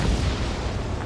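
A destroyed target bursts apart in the combat flight game Ace Combat 7, a brief, loud, dense boom with rumbling low end that fills the moment without any voice.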